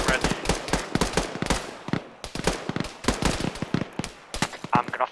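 Gunfire during a team training exercise near a bridge, rapid bursts of sharp cracks in uneven volleys, loud and close, with brief gaps between strings of shots.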